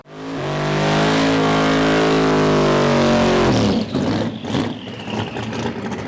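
A Bentley drag race car in Street Eliminator competition roars loudly, its engine note climbing steadily in pitch under hard acceleration for several seconds before cutting back into rougher, choppy revving as it pulls away.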